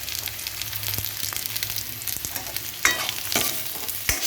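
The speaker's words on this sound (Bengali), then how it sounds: "এবার একটু নুন দিয়ে দিচ্ছি আলুতে। তারপরে হলুদ দিয়ে দিলাম।" Potatoes frying in a pan with salt and turmeric, a soft continuous sizzle with occasional stirring scrapes and taps, close but fairly quiet.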